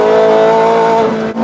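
Ferrari F430 Scuderia on road tyres running hard around a race track in fifth gear, engine screaming loud and close with a steady high tone, briefly dipping near the end.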